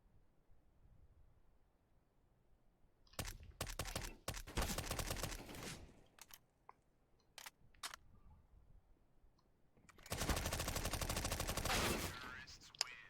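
Two long bursts of rapid gunfire crackle from a game, separated by a few sharp single shots over a quiet low hum.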